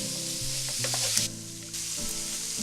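Vegan tofu scramble sizzles loudly in freshly added oil in a pan, a dense, continuous frying hiss close up with a short dip in the middle and no voices.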